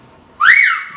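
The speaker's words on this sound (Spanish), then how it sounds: "¡Cielos! ¡Silbaron!" A single rising-then-falling whistle rings out sharply during a school musical stage production of a comic play, loud and clear against a quiet hall.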